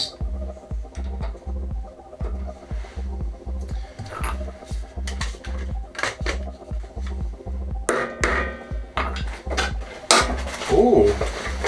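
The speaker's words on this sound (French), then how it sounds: "Déjà pour mettre un coup de brosse métallique autour, enlever la clavette." A wire brush scrubs around the metal traction pulley of an engine on a wreck pulled from a lake, making rhythmic, repeated scraping strokes near the microphone with metallic clinks in between.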